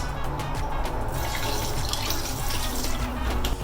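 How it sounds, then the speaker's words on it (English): Raw chicken being washed in a sink with vinegar and salt, running tap water splashing and sloshing continuously over the meat, close and steady. "Wash it with some vinegar and salt."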